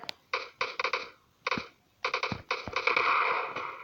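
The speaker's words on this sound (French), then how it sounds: "Il y en a qui me tire dessus avec des guns souvent." Bursts of gunfire from the video game PUBG, a string of short volleys and single shots with brief gaps, moderately loud and heard alone without talk.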